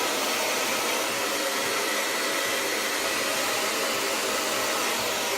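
A hair dryer on its cold setting blows a steady, broadband rush of air at close range, unbroken for several seconds with no talking over it.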